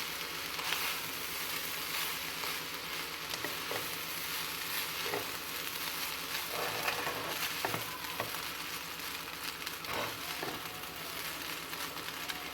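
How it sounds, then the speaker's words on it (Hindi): Chicken egg fried rice ingredients are tossed together in a hot frying pan: a steady, fairly loud sizzle runs throughout, broken by intermittent scraping and clattering stirs close by. "अब हम इन सब चीज़ों को अच्छी तरह एक दफ़ा मिक्स करेंगे।"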